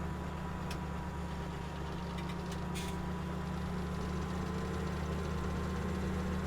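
A tractor engine idling in the Farming Simulator 17 video game, a steady low droning rumble that holds constant throughout, fairly close, with a few faint clicks and no talking.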